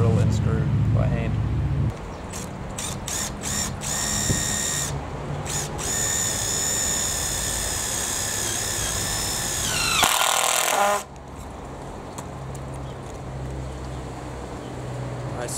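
A power drill whines steadily with a few short bursts before a long continuous run drilling holes into hardwood boards, then winds down; close and loud, no speech.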